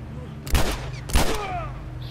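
Two loud gunshots about half a second apart from The Last of Us Remastered, each with a sharp crack and short ringing tail, fired during a firefight against a tough enemy.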